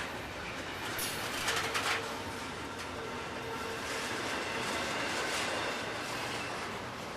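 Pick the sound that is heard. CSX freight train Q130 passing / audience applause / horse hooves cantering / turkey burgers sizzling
CSX freight train Q130 passing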